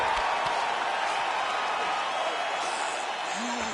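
Arena crowd in UFC 4 roaring and applauding at the end of a round, a steady dense wash of cheering that holds loud throughout with a faint voice briefly rising near the end.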